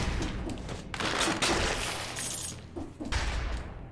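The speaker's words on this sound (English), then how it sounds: "Yeah, it is shooting bombs." Bomb-shooting enemy attacks in the action platformer Dead Cells, a dense crackling volley of blasts and shattering bursts that rises and falls in waves, with sharp thuds near the end, loud and unbroken.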